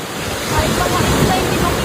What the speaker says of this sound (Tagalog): Sobrang labo kasi ang lakas ng alon. Pinapalo talaga yung mga bangka.